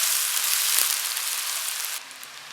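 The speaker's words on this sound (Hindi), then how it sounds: "अब इसी ऑयल में डालेंगे चॉप प्याज, प्याज को लाइट ब्राउन होने तक फ्राई करेंगे।" Chopped onions dropped into hot oil, used just before for frying chicken, give a dense, steady crackling sizzle close up that drops a little in loudness partway through.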